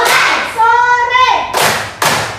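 Schoolchildren in a classroom clap in sharp, loud, unison bursts, one at the start and two more close together near the end, around a teacher's spoken line.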